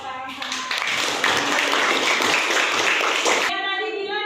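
Classroom applause from children during a lesson, a dense burst of clapping lasting about three seconds with chatter mixed in, beginning and ending abruptly amid room voices.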